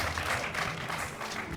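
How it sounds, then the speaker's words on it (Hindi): Crowd applause for the Kisan Cup winners at an outdoor event in Bulandshahr, Uttar Pradesh: a dense, steady wash of clapping that holds at even loudness throughout, with no voices standing out above it. "तो जोरदार तालियां जो है वो बजती रहनी चाहिए।"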